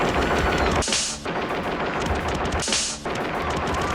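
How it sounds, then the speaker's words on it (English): Rapid-repeat cap firing from a RoboCop action figure toy set rattles out as a loud, continuous burst of crackling pops, cut by two brief hissy breaks. "RoboCop and evil ED-260 face off with rapid repeat cap firing."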